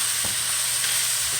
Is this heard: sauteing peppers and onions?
yes